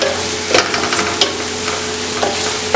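Malabar-style fish biryani is stirred and mixed in a pot with mint and coriander leaves: a continuous low sizzle broken by several scraping strokes of a spoon, close and alone.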